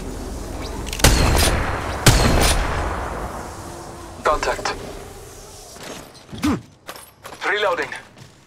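Gunfire in the mobile battle royale game Apex Legends Mobile, with loud sharp shots around one and two seconds followed by scattered bursts and crackling, with a voice speaking near the end.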